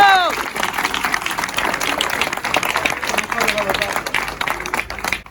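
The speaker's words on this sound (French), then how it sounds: "Merci pour vos applaudissements." Crowd applause at an office inauguration in Fuve, lively and continuous with scattered cheers and voices mixed into the clapping, holding steady throughout.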